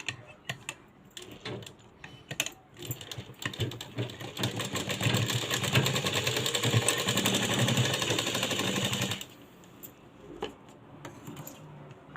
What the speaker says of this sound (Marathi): इथं शिलाई मारून घ्यायची आहे पॅक एकदम डबल शिलाई मारायची आहे